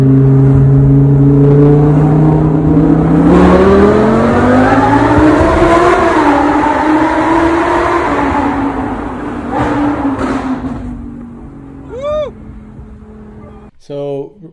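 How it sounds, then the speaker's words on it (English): A Lamborghini drives through a tunnel, its engine droning loud and close and rising in pitch as it accelerates, the sound reverberating off the walls, then easing off near the end with a couple of brief sharp squeaks. "I got to end it on a high note driving this beautiful Lamborghini through a tunnel."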